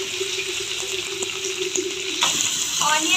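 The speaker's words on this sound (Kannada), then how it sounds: "ಆನಿಯನ್ನೆಲ್ಲ ಚೆನ್ನಾಗಿ ಹುರಿಯಿರಿ." Onions sizzle in hot oil with cumin, curry leaves and chilli while button idli fry is made, a steady close hiss that swells slightly toward the end, with no talk.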